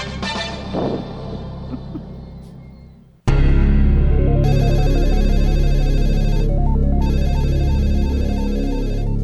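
A telephone ringing as a sound effect, with a loud, steady electronic ring pattern that starts abruptly after a few seconds of quieter sound and repeats in regular bursts to the end.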